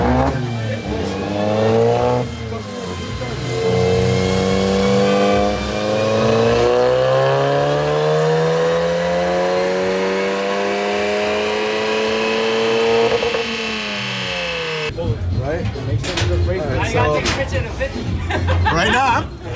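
A car on a chassis dynamometer at a dyno day event, engine revving hard through a long rising pull that climbs steadily then drops off, loud and close, followed by rough engine noise.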